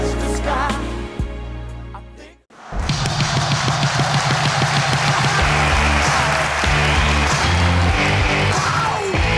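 A big crowd bursts into loud, sustained applause with some cheering after a talent show final performance in Turkey, following a brief musical tail and a short hush, the clapping holding strong to the end.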